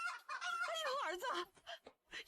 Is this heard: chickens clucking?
yes